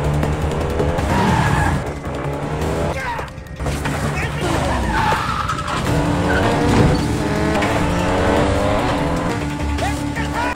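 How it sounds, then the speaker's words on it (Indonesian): A motorcycle speeding away through busy traffic, engine roar and tire squeals mixed with other vehicles and dramatic film music, loud and close throughout while a voice speaks over it. "Saat itulah sebuah motor melaju kencang dan menyambar HP itu."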